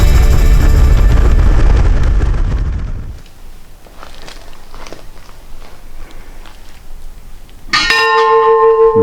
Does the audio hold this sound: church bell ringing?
yes